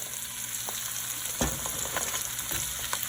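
Pieces of crab tipped into a hot pan of oil and chili for black pepper crab, sizzling and frying steadily, with a few sharp crackles and clinks of the utensil as they are stirred.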